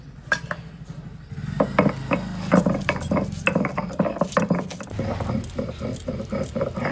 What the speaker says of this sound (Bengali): এবার এই রসুন আর আদাটাকে বেটে নেব